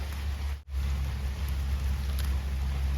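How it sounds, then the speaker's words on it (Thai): Heavy, continuous rain pours down in a dense roar, briefly dipping once before resuming at full strength. "เสียงฝน"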